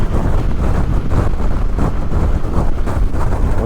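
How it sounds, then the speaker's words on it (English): Steady, loud wind roar buffets a rider's helmet at motorway speed, around 73 mph, on a Honda NC750XA motorcycle, with no speech over it. "I'm getting a lot of wind around my ears and my head and the helmet and that."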